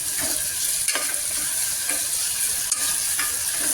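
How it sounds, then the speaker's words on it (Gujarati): Potatoes tempered and frying in a pan, a dense, even sizzle close up with a few faint stirring taps, no speech. "મેં બટાટા વઘાર્યા"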